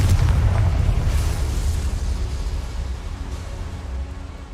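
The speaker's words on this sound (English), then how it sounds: "I'd better light these boilers if I want to go any further. Confringo." A Confringo fire spell in Hogwarts Legacy bursts against boilers to light them, giving a heavy close explosion at the start that rolls into a long fading rumble and roar, with no voices.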